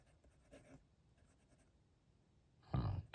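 An Asvine P30 fountain pen with a steel medium nib scratches faintly across paper in soft, quiet strokes, ending in a brief louder rustle.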